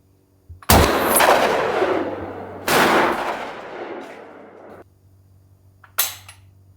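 Three loud gunshots from a firearm at a polar bear protection demonstration in Svalbard, each a sharp blast with a long ringing decay, the third shorter and clipped, with quiet gaps between.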